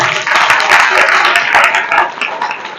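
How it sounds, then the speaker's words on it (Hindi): Audience at a Veer Bhagat Singh Yuva Dal gathering breaks into loud, dense clapping that fills the room steadily for a few seconds, with voices mixed into the crowd noise. "एक बार अपने लिए जोरदार तालियां बजा दो।"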